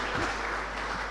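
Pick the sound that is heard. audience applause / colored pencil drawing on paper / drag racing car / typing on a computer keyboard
audience applause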